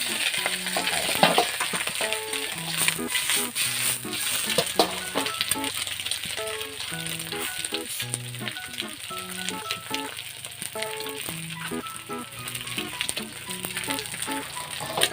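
Egg frying in a hot wok for Coke fried rice gives a steady bright sizzle, with clanking and scraping of the utensil throughout and melodic background music playing over it.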